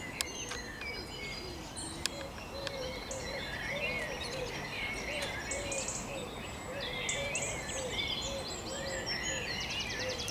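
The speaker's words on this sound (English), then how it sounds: "can you hear the bird song?" Dawn chorus of birdsong around six in the morning near the shore, many chirps and trills overlapping at a moderate distance over a steady background hiss, with insects faintly buzzing underneath.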